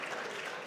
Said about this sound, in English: Can we give her a sounding round of applause?